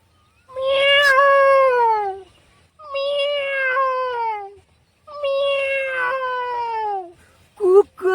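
A voice imitates a cat meowing: three long, drawn-out falling meows, loud and close, with short pauses between them and a few brief vocal yelps at the end.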